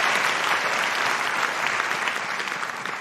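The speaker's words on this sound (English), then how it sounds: "Round of applause for Josh." A live audience at a comedy show in Christchurch, New Zealand claps loudly and continuously for a performer named Josh, a dense, even wash of applause that fades slightly toward the end.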